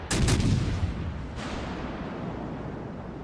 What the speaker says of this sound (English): Because I set him on fire with almost every salvo.